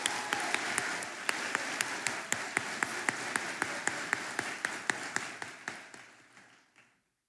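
A high school commencement audience applauds the orchestra and anthem singers, a wash of clapping with a few sharp, regular claps standing out close by before it fades to silence.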